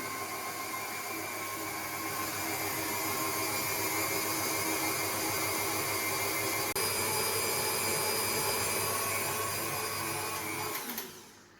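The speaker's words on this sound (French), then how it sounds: "Je vais continuer à battre pour que le mélange soit bien homogène." An electric mixer beats cake batter in a continuous, even motor whine that stays loud and unbroken before cutting off just at the end. No voices are heard.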